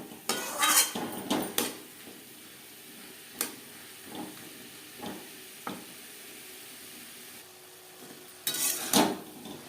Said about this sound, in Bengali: মশলার সাথে ফুলকপি বেশ ভালো করে মিক্সড করে দেবো